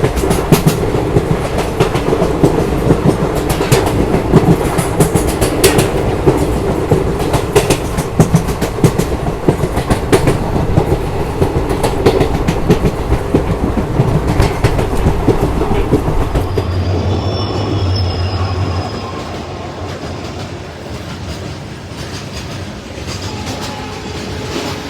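The Devgiri Express with ICF coaches runs on the Mumbai–Hyderabad route, its wheels loud and close in a steady clickety-clack rumble that drops to a quieter, smoother roll near the end.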